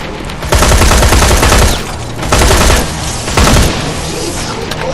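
Heavy-caliber gunfire from the Terminator 2 video game, loud dense bursts of rapid shots in three surges over a constant rumbling battle background, with no talk.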